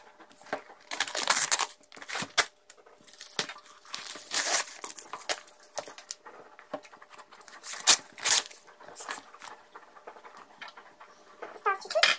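A tightly packed parcel of European sweets is torn open by hand, with irregular bursts of ripping and crinkling packaging, close and busy, with pauses between pulls.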